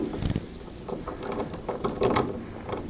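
Small screws being turned out with a screwdriver to take the faceplate off a networking device, making soft, close ratcheting and scraping clicks in short irregular bursts, heard alone.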